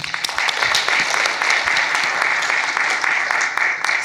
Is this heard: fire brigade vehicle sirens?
no